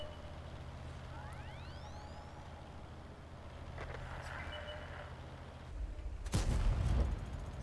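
A single loud gunshot in a video game bursts out near the end, over a steady low rumble and faint rising electronic tones.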